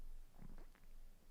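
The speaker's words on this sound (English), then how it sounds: "is burping from the delicious Coca-Cola" A man lets out a single soft, low burp after drinking Coca-Cola; the burp is short, faint and muffled against a quiet background.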